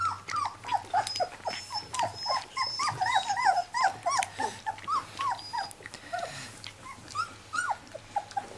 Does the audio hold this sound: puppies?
yes